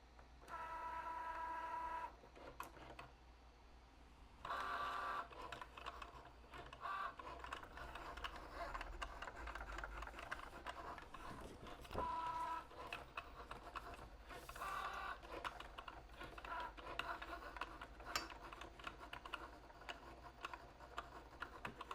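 A Cricut Joy cutting machine cutting a base layer makes a quiet mechanical whir with short motor runs, brief pauses and small clicks. The sound continues steadily for about twenty seconds and is close, with no voice.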